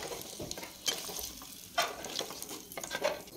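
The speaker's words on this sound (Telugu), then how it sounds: "గుడ్డు వేసాక ఒక 2 నిమిషాల పాటు ఆయిల్లో డీప్ ఫ్రై చేసినట్టుగా వేపుకోవాలి" Eggs deep frying in hot oil for about two minutes, a steady sizzle with crackling bursts and a few louder pops, close and alone with no talk.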